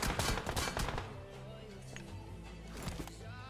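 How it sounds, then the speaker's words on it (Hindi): Rapid gunshots ring out in a mobile battle royale game, a dense burst at the start then scattered fainter shots over game ambience. "ये बंदा मेरे को स्पॉट कर लेता है एंड मेरे ऊपर शॉट्स लेता है।"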